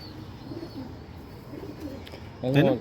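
Pigeons coo softly in low, rolling calls, then one bird gives a louder, closer coo near the end.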